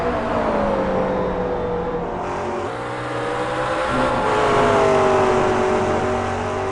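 Several McLaren race cars in a V8 Online sim racing Grand Am event drone past with sustained engine whine, pitch sliding up and down as they shift and corner close together.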